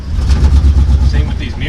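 A shop truck's engine runs close and loud, with a rough pulsing low rumble through the short stretch and voices talking over it.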